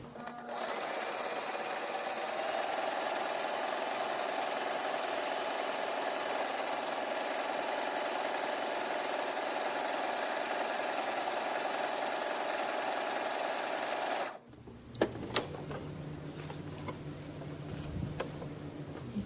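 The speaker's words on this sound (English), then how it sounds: "it is easier to control it if you're sewing fast" A domestic sewing machine stitches embroidery at high speed, a steady loud mechanical whir running for about fourteen seconds before stopping abruptly, followed by quieter handling noises.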